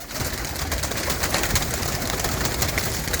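Desi pigeons coo in a loft, a soft continuous layered murmur of several birds over a constant noisy background, with no voices.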